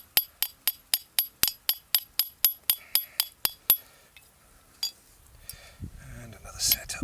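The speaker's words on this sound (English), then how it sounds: "You need to do enough hammer strokes to overlap them" Copper being hammered into a bracelet at an outdoor camp: a steady run of sharp metallic taps, about fifteen evenly spaced blows, then a couple of scattered strikes and faint background noise.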